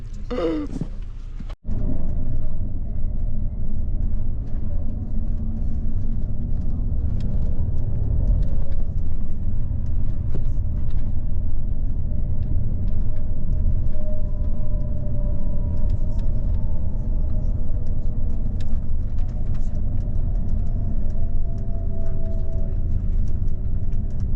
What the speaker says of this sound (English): That is the big double-decker Flix bus.